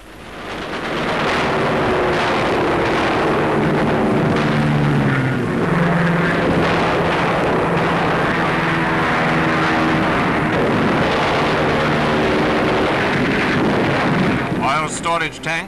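Wartime newsreel soundtrack of aircraft over an island air base during an American dive-bombing raid: a loud, continuous engine roar with wind-like rushing, a narrator speaking over it.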